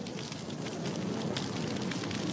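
Water gushes from a burst pipe under a road, a continuous loud hissing, spattering rush with no pauses and no voices.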